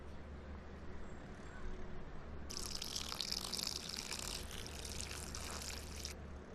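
Water poured into a small bowl, a steady splashing trickle that starts partway through and runs for several seconds at close range over a low background hum.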